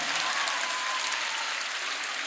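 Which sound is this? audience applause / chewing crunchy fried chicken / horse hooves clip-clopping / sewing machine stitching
audience applause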